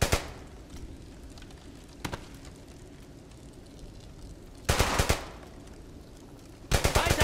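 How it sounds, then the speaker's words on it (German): Bursts of machine-gun fire from the World War II shooter Brothers in Arms: Hell's Highway, a sharp shot at the start and another near two seconds, then two loud rapid bursts later, over a low battlefield rumble. "Weiter schießen!"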